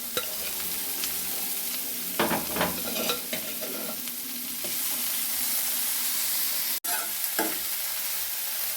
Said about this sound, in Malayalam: ഇത് ഇവിടെ കിടന്ന് ഫ്രൈ ആയി വരട്ടെ.